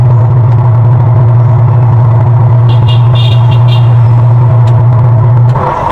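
A TCL double tub washing machine's wash motor hums loudly and steadily with a low droning tone, close and continuous, with no talk over it.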